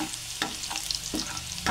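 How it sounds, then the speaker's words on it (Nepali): Finely chopped ginger and garlic frying in hot oil with five-spice seeds, a close, steady sizzle broken by a few sharp scrapes of a spoon stirring the pan, no voices. "अब मैले यसमा मसिनो गरेर काटेको अदुवा र लसुनलाई लगाउँछु। यसलाई पनि एकछिन फ्राई हुन दिन्छु।"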